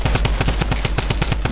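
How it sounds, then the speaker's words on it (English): Rapid automatic gunfire from a Fortnite match, a steady stream of roughly a dozen sharp, punchy shots in quick succession, loud and close with no talking over it. "Oh, he's getting shot."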